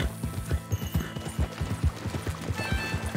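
Rapid, rhythmic hoofbeats of a galloping horse in the video game Red Dead Redemption 2 thud steadily at close range over a faint background.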